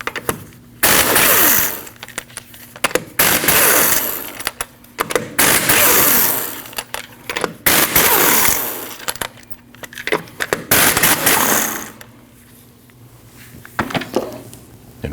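Five 19mm lug nuts being removed from a front wheel of a 2003-2008 Subaru Forester with a power tool, several loud buzzing, rattling bursts of a few seconds each separated by short pauses, close and with no talking.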